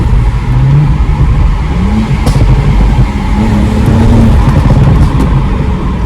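A BMW 335i stage 1 engine of about 400 hp revs and drones loudly nearby, with sharp crackling pops from the exhaust breaking through the rumble.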